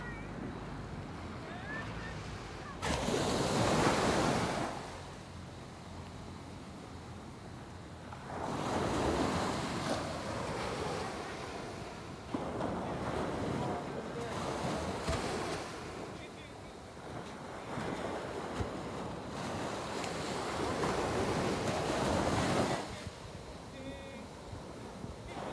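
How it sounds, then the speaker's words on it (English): Ocean waves breaking on the beach at Carlisle Bay, Barbados, at night, rolling surges of surf that rise and fall every few seconds, with wind rumble across the microphone. "a night walk along the beach"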